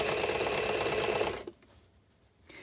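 A sewing machine runs steadily, stitching a bound edge along a curve, then stops abruptly; faint handling noises follow in near silence.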